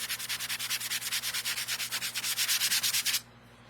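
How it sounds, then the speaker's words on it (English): Rhythmic back-and-forth scraping of a well-worn sanding block on a round wooden door sign, about two dozen quick even strokes, close up, stopping abruptly near the end. "This sanding block has been well used."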